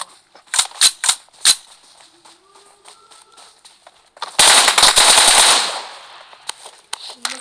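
Firecrackers go off outdoors: several sharp separate bangs, then a loud, rapid crackling string lasting about two seconds, followed by a few scattered pops.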